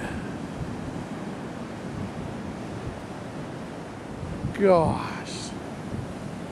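Large ocean waves break on the Pacific coast as a steady, loud roar of surf with wind rumble against the microphone. Near the end a person exclaims briefly over the rush of water.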